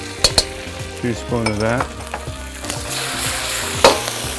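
Fresh garlic, oyster sauce and chili paste sizzle in a hot pan amid clattering stirs and utensil knocks, with a short burst of louder frying, while a voice speaks briefly over the cooking.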